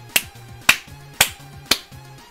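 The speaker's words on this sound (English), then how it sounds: "All the spiders clap along to the music." In the Undertale video game, spiders clap along to music, heard as four crisp, evenly spaced snap-like claps over a faint, low, pulsing tune.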